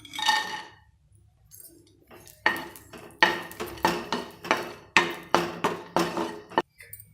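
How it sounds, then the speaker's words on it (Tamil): Raisins are stirred in ghee in a pan, with a series of sharp metallic clinks and scrapes from a spoon against the pan, close and fairly regular, over faint sizzling. "திராட்சையை பொரிச்சுப்போம்."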